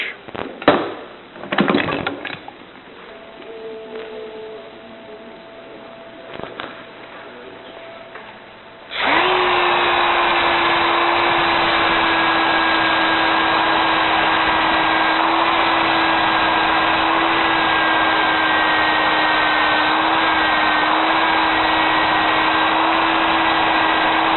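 A travel mug is power sanded dry with 120 grit paper. A few scattered knocks and a quiet stretch give way to a loud, steady whirring drone that holds for the rest of the clip, close and alone.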